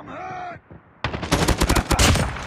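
Gunfire in the Call of Duty video game: a short burst of rapid shots erupts loud and close after a brief quieter lead-in, crackling densely to the end.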